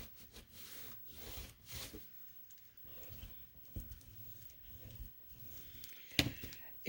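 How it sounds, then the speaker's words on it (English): A paper pocket fold is burnished by hand with quiet, intermittent rubbing strokes, soft swishes in short bursts separated by brief pauses, close and faint. "Burnish it."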